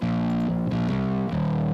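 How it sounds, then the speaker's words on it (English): A heavily distorted bass guitar plays a gritty, sustained riff with a few note changes, loud and dense, no voices. "I've got a bass distortion track,"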